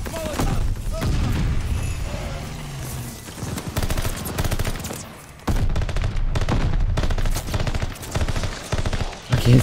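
Rapid automatic gunfire in Call of Duty Vanguard, dense bursts of shots and booms from a near firefight, loud and sustained with brief lulls, with some voice mixed in under the shooting.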